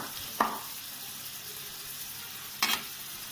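Sliced onions fry in hot oil for beef vada, giving a steady soft sizzle with two brief scraping clatters of stirring about two seconds apart.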